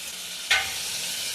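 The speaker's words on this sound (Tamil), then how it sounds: "நறுக்குன வெங்காயம் ஆட் பண்ணிக்கிறோம்." Chopped onions hit a hot pan for vegetable pulao with a sudden sizzle, then a steady soft frying hiss continues with no voices.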